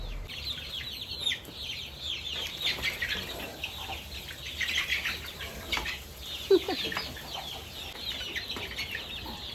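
A chicken clucking repeatedly nearby with bursts of wing flapping, irregular and moderately loud against a quiet farmyard background with no speech.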